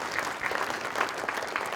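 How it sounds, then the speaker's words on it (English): Steady applause from a conference audience at a keynote, a dense wash of many hands clapping continuously for a short burst with no voices on top. "you can give yourself a round of applause for that right now"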